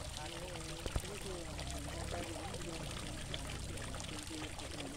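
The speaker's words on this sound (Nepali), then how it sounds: "टुपातालको यो ताल बेसीमा रुखको जराबाट पानी आइरहेको हामीले देखेका छौँ" Water flows out of the roots of an old tree stump at Talbesi in Pokhara, making a steady, continuous trickling and pouring sound. Faint voices can be heard beneath it.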